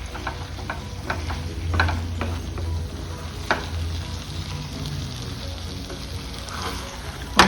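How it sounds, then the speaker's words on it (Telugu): Brinjal curry made with onion is stirred gently in a pan, soft scraping strokes over a low, steady sizzle, close up and moderately quiet, with a sharper knock at the end and no talking. "వంకాయలు చెదరకుండా జాగ్రత్తగా కలబెట్టుకోండి."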